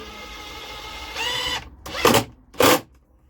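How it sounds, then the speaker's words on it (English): A power drill driving into a wooden pallet collar for a garden wall bar: a steady whirring run, then two short loud bursts of drilling with pauses between, close to the microphone. "Bit of left-handed drilling."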